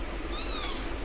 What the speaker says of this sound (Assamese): মেকুৰী